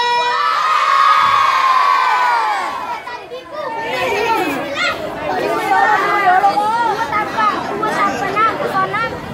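Crowd at a relaxed community walking event in Wajo, Indonesia, shouting and cheering loudly, a sustained swell of voices at first, then a busy, chattering roar with children's shouts mixed in.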